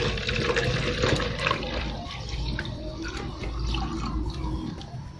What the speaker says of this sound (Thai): ครั้งที่สองเราก็จะเทน้ำลงใส่อีกค่ะ